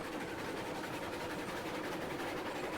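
A train rolling along in the Railroads Online video game: a faint, steady broadband rumble and rattle of wagons that continues evenly throughout, with no voices.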